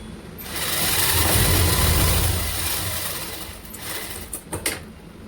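A sewing machine runs steadily while stitching a red lined round-neck blouse, its whir building and then easing off before a few sharp clicks near the end.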